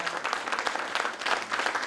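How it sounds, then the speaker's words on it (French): An audience at a charity association event applauds loudly, a dense and continuous clatter of many hands clapping close by with no pause. "On l'applaudit très fort."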